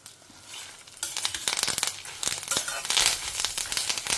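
Curry leaves and dried chillies hit hot oil and burst into a loud, dense crackling sizzle that continues with sputtering pops, close up with no talk.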